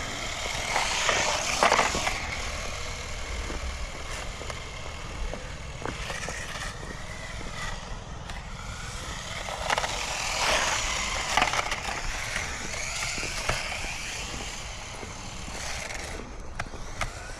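Wo Hua Toys 1/24 scale RC drift kei truck running around a skatepark, a faint whining electric motor with wheels rattling and scraping over the surface, a few sharp knocks from landings, fairly distant and continuous.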